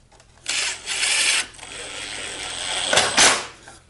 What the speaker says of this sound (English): I'm just adding a couple of exterior grade Torx head fasteners